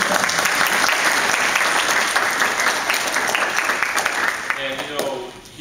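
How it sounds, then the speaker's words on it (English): Audience at a mayoral event giving a round of applause for a congressman, loud continuous clapping that holds steady before fading out in the last second, where a voice begins. "give him a round of applause."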